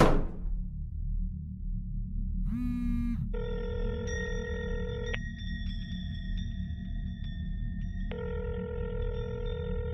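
An outgoing phone call with a short dialing chirp followed by repeated electronic ring tones in two long bursts separated by a pause, heard over a steady low background hum, with no talk.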